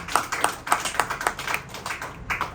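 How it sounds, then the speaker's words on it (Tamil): Congregation hands clapping at a Tamil Christian church gathering, a steady rapid rhythm of many claps at moderate distance, continuous through the moment with no voices on top. "நல்லா கைத்தட்டு"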